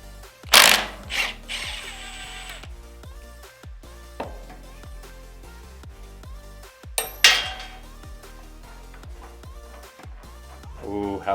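A ratchet wrench clicks rapidly and rhythmically while loosening the flywheel nut on a KTM 125SX two-stroke motocross engine, close up, punctuated by a few louder metallic clanks of tools.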